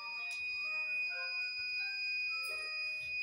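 A steady high-pitched electronic tone rings continuously from a kid rescue system's buzzer, triggered by an ultrasonic sensor on a clamping mechanism, with faint clicks and mechanical noises underneath.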